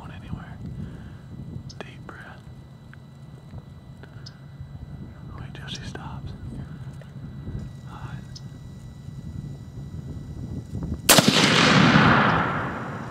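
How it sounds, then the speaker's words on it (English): A hunting gunshot fired at a deer cracks out loud and close after a stretch of quiet whispering, its blast rolling on and echoing for a couple of seconds. "Great shot!"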